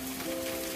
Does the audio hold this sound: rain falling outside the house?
yes